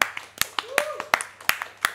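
Sparse, separate claps at a talk show, roughly eight or nine sharp hand claps spread unevenly over two seconds, close and fairly quiet, with a faint voice under them.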